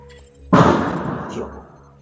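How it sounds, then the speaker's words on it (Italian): A sudden loud explosion in a video game, a sharp blast that decays into a rumbling tail lasting about a second, following a quiet stretch. "Ha sentito anche lui l'esplosione e si gira"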